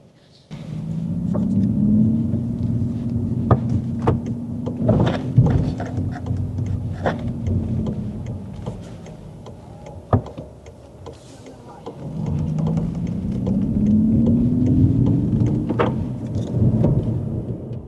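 A Volkswagen e-Golf 36 kWh electric car plays an artificial driving sound while moving, a low transformer-like hum that swells and fades twice. Faint ticks and clicks from the cabin sit over it, and no one speaks.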